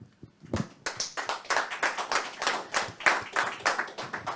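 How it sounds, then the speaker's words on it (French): Hands clap in quick repeated bursts, a small conference audience applauding close by, steady and brief with no voices. "Déjà, on va applaudir."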